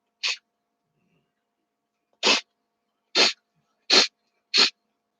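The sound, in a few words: sneeze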